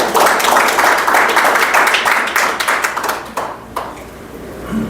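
Audience clapping at a Korean talk on feng shui, a dense patter for the first few seconds that thins out and fades, with a few scattered claps near the end.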